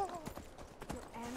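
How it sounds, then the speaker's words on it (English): Quick clip-clop of horse hooves trotting in the video game Skyrim Special Edition, a rapid run of hoofbeats with a voice heard briefly. "It's just a horse. Very, very angry horse,"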